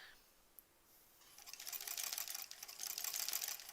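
A sewing machine stitches fabric for a bunny stuffed toy, starting from near silence and then running in a steady, fairly quiet mechanical whir with a brief pause midway.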